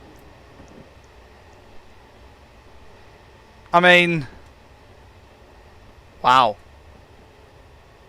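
A BR GT3 gas turbine locomotive in Train Simulator 2018 on the Woodhead Line rolls along with a steady low rumble and faint hum throughout, while someone speaks briefly twice over it.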